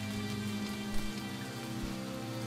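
Rain in the video game Starbound, a dense continuous patter on surfaces heard over steady game ambience and droning tones, even and unbroken throughout.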